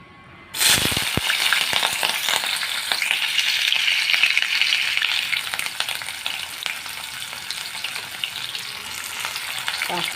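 Chopped onions and green chilies hit hot oil in a pan for a chicken curry, and a sudden loud burst of sizzling settles into a steady, dense, close crackle that lasts for several seconds.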